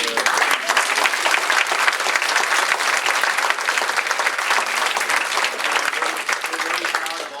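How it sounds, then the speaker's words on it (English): An audience claps in a continuous, even burst of applause at a Julian Castro campaign event, many hands close and loud throughout with no break. "let's give another round of applause."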